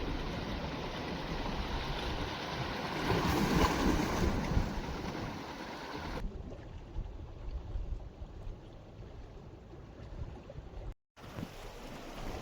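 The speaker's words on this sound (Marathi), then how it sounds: "कसली लाटे उडते बघा होडी" A small fishing boat heading back toward a creek at evening slaps through sea waves, a continuous rushing wash of water and wind that swells louder midway, then settles into a lighter spray with one brief dropout near the end.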